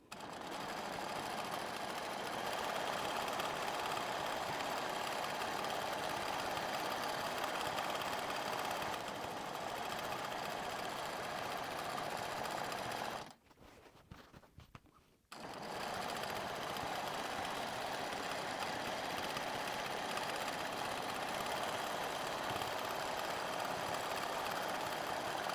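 A sewing machine stitches straight lines across a flag quilt while its top thread keeps shredding. It runs with a loud, continuous whir for about thirteen seconds, stops for roughly two seconds, then resumes steadily to the end.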